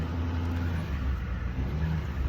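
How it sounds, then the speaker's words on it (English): A truck engine runs at low revs as the truck noses forward toward a bridge site, giving a steady, moderately quiet rumble with a faint tonal hum and no talk. "I got to use the winch on the front of my truck, so I better just nose in a little bit"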